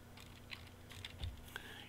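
Keys on a controller keyboard are tapped in a few light, scattered clicks while entering text for a Siemens LOGO ignition schedule, soft and close against a quiet background.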